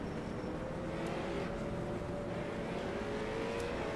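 A late model race car in iRacing at Oxford Plains accelerating at the start of a race: a steady, continuous engine drone that holds roughly level throughout, with no voices.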